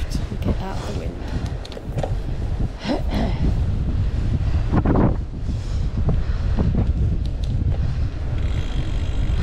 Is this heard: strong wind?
yes